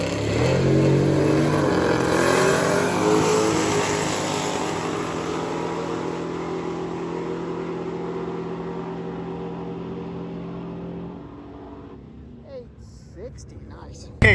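A drag racing Chevrolet Nova's engine roars with rising harmonic tones, holding steady before fading over several seconds, with a brief sharp burst at the end.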